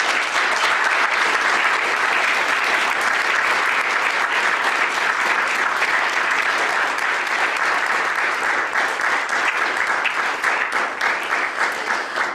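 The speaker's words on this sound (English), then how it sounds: "I would like to ask you for giving them great applause." Sustained, loud applause from a conference audience at a security forum in Bratislava, even and dense clapping that continues steadily for several seconds before thinning slightly toward the end.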